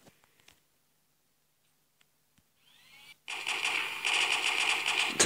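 Rapid automatic gunfire from the DesnoGun mod in a video game: a dense, loud burst of repeated shots fills the last two seconds, after a sweeping whoosh and scattered soft clicks.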